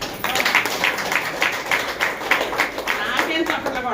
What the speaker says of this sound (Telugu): నాకేం చప్పట్లు కొడతారు